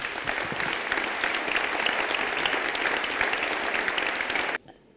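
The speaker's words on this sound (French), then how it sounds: "je vous demande de l'applaudir" A room full of people at a town New Year's greetings ceremony clapping for Monique Lano, dense sustained applause that runs evenly for about four and a half seconds and then stops abruptly.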